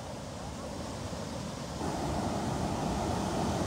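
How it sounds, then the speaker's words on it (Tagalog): Steady wind buffets the microphone by a fishing bay during net casting for carp, a broad continuous rush that grows louder halfway through, with surf and water noise underneath. "Mahangin pa naman bay."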